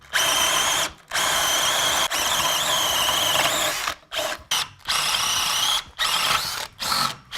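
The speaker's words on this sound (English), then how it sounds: "So let me just get my holes drilled first" A power drill with a large hole saw whirs loudly in long bursts while drilling holes for a new radiator, stopping and restarting several times with brief silent gaps between runs.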